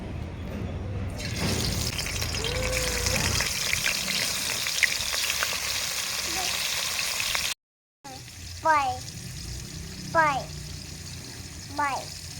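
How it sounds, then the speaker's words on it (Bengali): Rohu fish pieces rubbed with salt and turmeric, frying in oil in a kadai wok, give a loud, steady sizzling hiss for about seven seconds. A brief cut follows, then a voice speaks. "এবারে মাছগুলো তেলে ছেড়ে দেব।"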